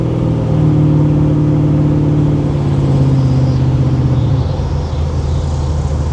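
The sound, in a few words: Monte Carlo SS driving with new transmission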